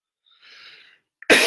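A single sharp, loud cough bursts out near the end, just after a faint breathy rustle, from a person in a French-language political Q&A discussion.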